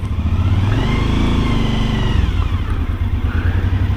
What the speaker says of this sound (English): it don't take much here to rev this thing